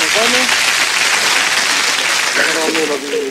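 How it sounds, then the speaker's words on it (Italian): Studio applause during a live radio show, loud and continuous throughout with voices cutting through at the start and near the end. "facciamo un applauso"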